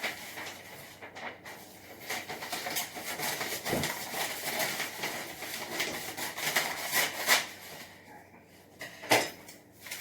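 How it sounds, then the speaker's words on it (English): Scissors cutting through a long sheet of banner paper for a cardboard Minecraft armor costume: steady rustling and snipping up close, with a few sharper crinkles toward the end. "Go ahead and cut this banner paper."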